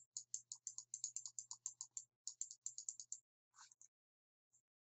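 Sharp computer mouse clicks while working in Photoshop Elements, a quick run of about two dozen crisp, close clicks in an uneven rhythm, then a brief pause, a softer double click and one last faint click.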